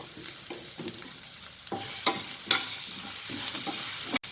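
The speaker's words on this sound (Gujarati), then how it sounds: "હવે એને હલાવી દઈશું" Green chilli and garlic paste with fennel seeds and a pinch of asafoetida sizzle in a pan while being stirred, the spoon scraping and knocking in irregular strokes over a continuous frying hiss.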